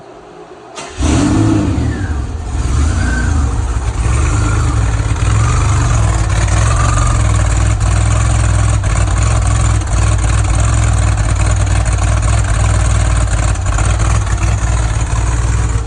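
A car engine with aftermarket headers and exhaust cranks and starts in about 25-degree cold, then settles into a loud, deep, steady idle with a throaty rumble, heard close up.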